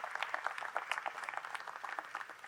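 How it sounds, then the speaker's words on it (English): A conference audience applauds at an NAACP closing plenary session in Atlantic City, a steady, fairly faint patter of many hands clapping heard from some distance in a large hall. "Yes, we can clap for them."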